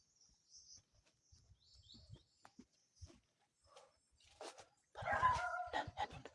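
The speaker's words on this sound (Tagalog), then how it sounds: "May aso. May aso." A dog barks a few times in the distance amid faint bird chirps, then a louder close burst of barking near the end.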